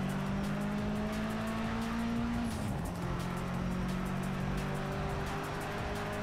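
Racing car engine in Project CARS 3, a loud sustained drone with a tonal whine that drops in pitch as the car slows, then holds steady, with a brief tire squeal and no voices.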